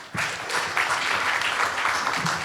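Audience applause at a congressional district primary candidate forum on business concerns, a dense, steady wash of many hands clapping that starts abruptly and holds loud and even throughout.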